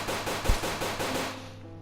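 Rapid automatic gunfire from a PS4 zombie shooter game rattles in a steady stream of shots for over a second before tailing off into quieter game ambience.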